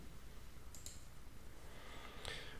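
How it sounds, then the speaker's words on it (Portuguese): Mouse clicks on the OK button in CAD software, heard as a couple of soft, quiet, isolated clicks over a low background hiss. "você vai clicar em OK."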